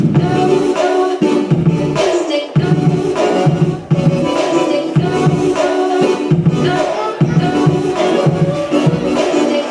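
Loud electronic music track with choppy, stuttering vocal fragments cut in and out over a driving beat, with brief abrupt gaps.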